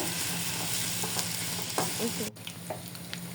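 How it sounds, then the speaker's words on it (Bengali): Onions fry in a pan for chicken biryani, producing a continuous soft sizzle broken by light stirring scrapes, fairly quiet and heard alone without talk. "এই তো পেঁয়াজগুলো ভাজি হয়ে গিয়েছে"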